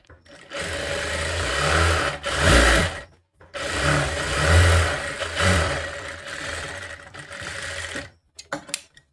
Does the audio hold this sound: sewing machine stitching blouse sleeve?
yes